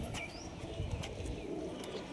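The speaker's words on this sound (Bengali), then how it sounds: "এখানে সমস্ত রকম পায়রা আছে" Pigeons in a loft kept for high flying, racing and other breeds, giving low, murmuring coos amid a busy wash of background noise, with faint chirps above.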